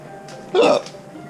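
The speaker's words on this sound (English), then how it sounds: "Ooh, got the hiccups." A single sharp hiccup from a man, heard close and brief over quiet background with no speech.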